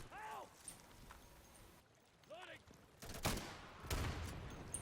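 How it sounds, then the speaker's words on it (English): A flashbang grenade goes off in a 12-player multiplayer shooter: two sharp, loud broadband bursts close together near the end, after stretches of voices and background game noise. "Get flashbang."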